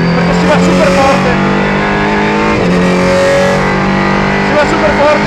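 The high-revving engine of a Ligier JS P4 race prototype roars continuously at speed, loud and close, with the pitch rising and falling through gear changes.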